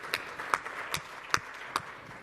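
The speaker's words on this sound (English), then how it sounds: "Give yourself a round of applause so we can wake ourselves up just a little bit" A handful of sparse, isolated claps, about five distinct hits, sound faint and scattered across a quiet room as a Las Vegas conference session audience responds weakly before an Adobe Real-Time CDP talk.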